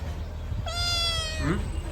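A single drawn-out cat meow, clear and close, rising and then trailing off over quiet background noise.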